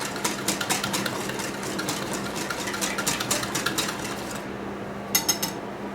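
A spoon works through sausages and onion gravy in a pan, giving a rhythmic run of light scraping clicks against the metal, followed by a brief cluster of sharper clinks near the end.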